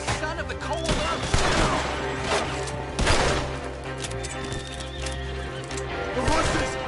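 Horses in the Red Dead Redemption 2 game whinny loudly over the clatter of galloping hooves, with bursts of gunfire crackling through a dense, busy action scene.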